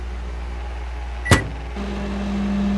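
Microwave oven in a video game, heard as a sharp click or thud of the door followed by a steady, low monotonous hum that starts and keeps running with a cup of milk inside.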